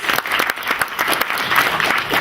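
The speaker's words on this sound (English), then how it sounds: "Applause, please." Audience applause at the close of a presentation on mobile and the web, a steady dense patter of many hands clapping at once, filling the room at an even level throughout.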